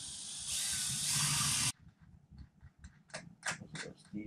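Two machine screws are driven into a hobby-built power distribution board, with a long, steady ratcheting whir followed by shorter, sharper clicking bursts at close range.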